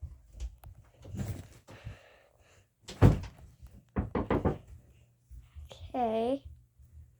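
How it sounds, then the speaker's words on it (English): Someone knocks on a door several times, mixed with other thumps and a brief tonal squeal, in a quiet indoor space. "I guess someone's knocking."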